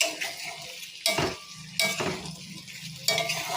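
A spoon stirs paneer frying in ghee in a pan, with a few sharp scraping clanks against the metal over a soft, continuous sizzle; close and fairly quiet, with no voices.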